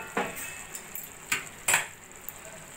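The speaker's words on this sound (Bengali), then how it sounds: "এবার আমি ঢাকাটা তুলে দেখে নেব" A metal lid lifted off a pot of cauliflower curry cooking with potatoes, giving a few sharp clinks and scrapes spaced apart over a quiet kitchen background.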